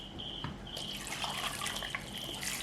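Water runs steadily from a tap into a pot holding fish for cooking, a continuous splashing pour that stays close and fairly loud throughout, with no talking.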